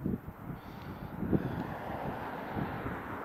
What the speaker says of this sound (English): The wind is blowing quite well.